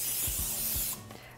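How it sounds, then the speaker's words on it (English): Nonstick cooking spray hisses onto a cake pan in a steady burst of about a second, then cuts off, leaving quiet room sound. "I am going to spray the pan with a nonstick cooking spray"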